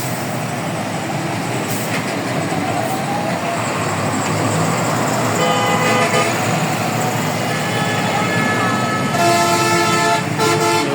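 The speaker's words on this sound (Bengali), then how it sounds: "আপনারা দেখতে পাচ্ছেন গাড়িগুলো যাচ্ছে।" Heavy road traffic crawling along a blocked highway in Pirganj, Rangpur, with a steady engine drone and repeated loud horn blasts, near and continuous.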